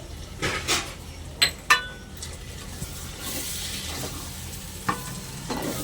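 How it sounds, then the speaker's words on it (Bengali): Khichuri ingredients with peanuts are sautéed and stirred in a pan, a continuous soft sizzle broken by several loud metallic clinks and scrapes of a spoon against the pan, close and without talk. "একসঙ্গে ভালো করে কষে নেব।"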